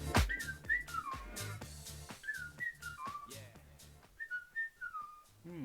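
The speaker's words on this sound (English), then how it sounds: "We're whistling that for all night now." A person whistles a bouncy melody in short rising and falling phrases, clear and close, with soft background music or noise beneath.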